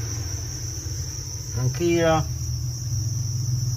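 Crickets in a rearing box chirp in a steady, high, continuous trill throughout, with a short voice speaking briefly partway through.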